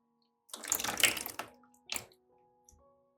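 Water is poured over orchid roots, a close splashing trickle lasting about a second, then a brief second pour and faint drips in a quiet room.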